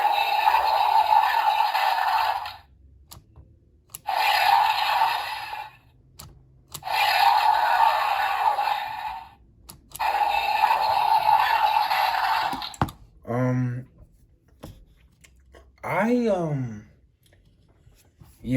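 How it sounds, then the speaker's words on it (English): Mattel Jurassic World Wild Roar Irritator dinosaur toy playing its electronic sound effects: several loud, harsh roaring bursts a few seconds apart, then shorter chirps and squeals, close by. "I'm pretty sure these sound effects are made by the Mattel company."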